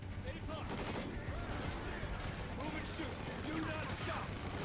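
Gunfire in the video game Call of Duty Ghosts rattles continuously under dense game noise at moderate level, while a voice talks over the action.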